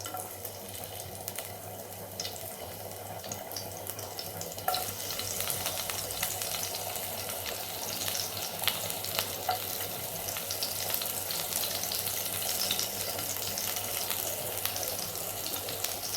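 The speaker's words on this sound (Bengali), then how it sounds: "আর এটাকে ভালো করে সটে করব যতক্ষণ না এটার র স্মেলটা চলে যায়।" Chopped garlic sautéing in hot oil in a pan, a faint steady sizzle with soft crackles and occasional stirring scrapes, close by and with no talking.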